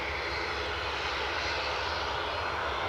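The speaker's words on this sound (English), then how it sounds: "We've got an aircraft on final approach. EasyJet from Belfast." An EasyJet airliner from Belfast on final approach into Edinburgh, a loud, close, continuous jet engine roar filling the short stretch without any talk.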